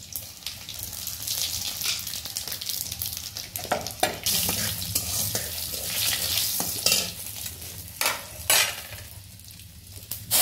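A few radhuni spice seeds drop into hot oil already holding garlic and cumin, crackling with a busy, close sizzle and the scrape of a spoon stirring in a pan, with sharper bursts of popping near the end.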